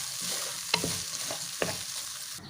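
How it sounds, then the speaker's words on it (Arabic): Basmati rice being stir-fried in a pan, with a few distinct scraping stirs of the utensil against the pan over a soft, steady sizzle. "هشوحه شويه عشان احب اشوحه عشان ما يطلعش معجن، لازم اشوحه كويس"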